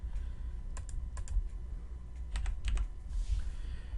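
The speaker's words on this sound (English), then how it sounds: "I am typing in the wrong stats for this creature" Fingers type on a computer keyboard in short clustered bursts of crisp key clicks, with brief pauses between runs, close and fairly quiet against a low room hum.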